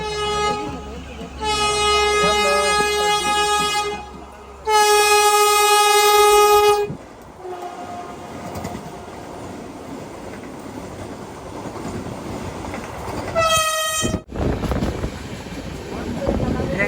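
A Vande Bharat express train's horn blasts twice in long loud tones as the train rushes past with rumbling rail noise, then a short final toot, on the Chennai to Tiruchirappalli line.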